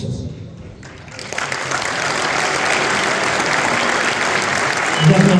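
A crowd at an evening event with a UFC lightweight champion in Chicago breaks into loud, sustained applause that swells after the first second and keeps going. Faint speech can be heard at the start.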